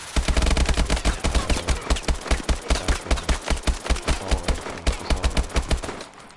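Rapid bursts of assault rifle fire in a Call of Duty match, loud and close, with dense repeated shots through most of the clip before cutting off near the end.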